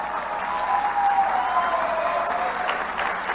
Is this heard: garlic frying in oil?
no